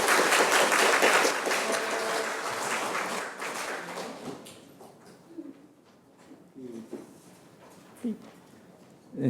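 An audience at a Franciscan spirituality academic symposium breaks into loud applause that gradually thins and fades, leaving a few scattered claps and faint murmurs near the end.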